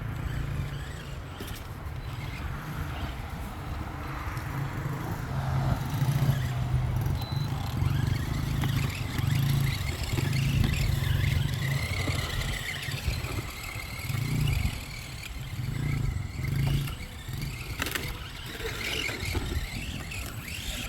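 A radio-controlled off-road truck driving around an outdoor track, its small electric motor whining and buzzing steadily with rising and falling pitch as it accelerates, alongside rolling tire and gravel noise.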